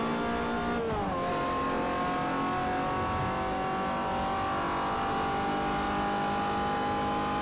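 Loud, continuous engine of a car in Forza Motorsport 4 revving hard, with a sharp gear change near the start and then a steady high-pitched drone held throughout.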